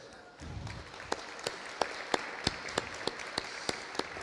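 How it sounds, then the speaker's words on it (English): Audience applause at a Tibetan New Year celebration morning program in Toronto, a steady wash of clapping from a crowd, with a few sharper individual claps standing out regularly above it. "So I think we should all clap and give our hands a big round of applause for this achievement."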